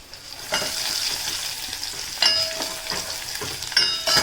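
Crushed garlic frying with cumin in hot oil in a home kitchen: a continuous close sizzle with stirring scrapes and a few brief metallic rings from the utensil against the pan.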